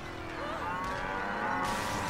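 Cows mooing in the car-combat video game Carmageddon: Reincarnation, a few low drawn-out moos over a steady engine and game background bed.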